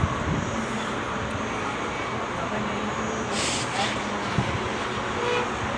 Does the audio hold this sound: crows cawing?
no